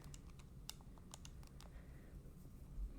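Quick, irregular clicks of fingers tapping keys on a calculator keypad, close and crisp over a quiet room hiss, in a short burst of presses with small gaps between them.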